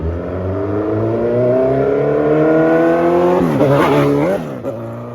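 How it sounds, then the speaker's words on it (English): A Suzuki Hayabusa 1300 motorcycle is ridden hard, its engine climbing through rising revs and gear changes, loud and close before dropping away as it passes. "It's so cool to see him ride the bike."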